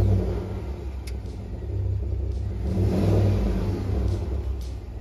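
A GMC Yukon Denali's 6.2-liter V8 revs with a steady, moderate rumble that swells toward the middle and eases off, no one talking over it.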